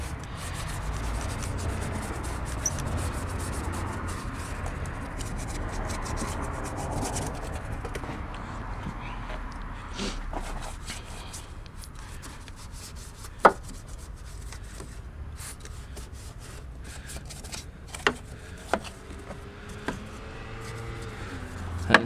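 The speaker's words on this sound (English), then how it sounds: "Give all that a good scrub. And then all the jams." Door jambs on a Mitsubishi Evo X are scrubbed during car detailing. The brushing rubs along continuously and close, growing softer later, with a few sharp clicks and taps near the end.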